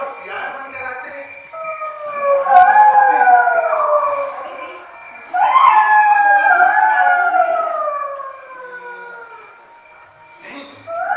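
Several people mimic jackals howling in a Hindi stage play, long rising and falling wails that overlap in two drawn-out waves, loud and close, with a third cry starting at the end.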